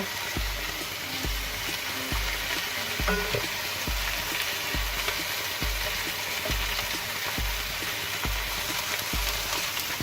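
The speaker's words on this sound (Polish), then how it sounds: "teraz będziemy smażyli na drugiej stronie" Stuffed chicken breasts frying in a pan on a gas stove, a steady loud sizzle and crackle filling the whole stretch, close up with no talk.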